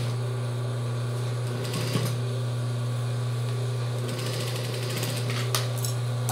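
Sewing machine running steadily close by while stitching a seam on a child's jumpsuit, a continuous motor drone with a couple of brief clicks and handling bumps, no talking.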